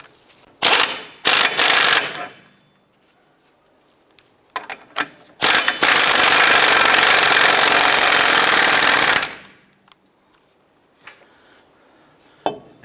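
An impact gun rattles a CV axle nut tight on a 2001-2007 Ford Escape wheel hub: two short bursts, then a few brief taps, then one long loud hammering run of about three seconds, with quiet pauses between.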